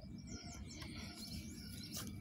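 A pet bird chirps inside its cage, a few short bright tweets over a busy, low indoor background rumble, fairly close but not loud.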